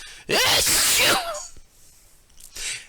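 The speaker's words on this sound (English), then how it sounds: "Suddenly they all heard a terrific sneeze." One loud, close sneeze bursts out, followed by quieter breathy sounds.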